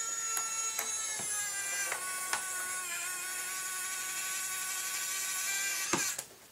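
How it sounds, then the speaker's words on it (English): Small electric screwdriver driving tiny screws into an aileron servo mount on a model airplane, a steady high motor whine running several seconds with faint clicks along the way, then stopping abruptly near the end, close and fairly quiet. "the electric screwdriver will get it started"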